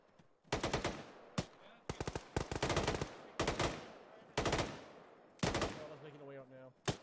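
Video game gunfire in Arma during a ShackTac session: loud, close bursts of automatic fire in repeated volleys with brief gaps, ending in a ringing tail.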